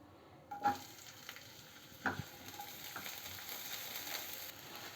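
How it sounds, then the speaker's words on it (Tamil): Finely chopped large onions fry in oil with a quiet, steady sizzle, broken by a couple of stirring scrapes against the pan. "வெங்காயம் பாதி அளவு வெந்துட்டுருக்குதுங்க."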